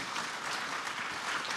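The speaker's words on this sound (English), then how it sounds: "big round of applause," Brief, fairly quiet applause from a summit plenary audience, an even patter of many hands clapping with no pauses.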